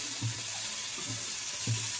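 Chicken pieces frying in a pan with carrots, spring onion and chopped garlic, a steady close sizzle with a few soft stirring scrapes and low bumps.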